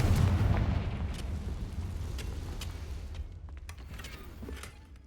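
A Confringo fire spell goes off in Hogwarts Legacy with a loud, rumbling blast that peaks at once and slowly fades across five seconds under dense low-end roar, with a few crackles near the end.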